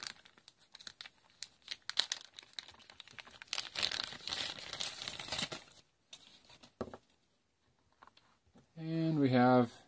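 A digital caliper is pulled from a crinkling plastic bag, with close, bursty rustling and tearing that comes and goes in short handfuls, a few quiet gaps, then a voice starts speaking at the end.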